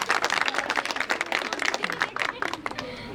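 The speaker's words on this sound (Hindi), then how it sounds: "चलो ताली बजाओ के लिए।" Audience clapping at a gathering: dense, steady applause from many hands, fairly near and continuous throughout, with some faint voices mixed in.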